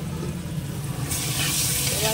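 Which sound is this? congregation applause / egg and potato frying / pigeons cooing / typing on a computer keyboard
egg and potato frying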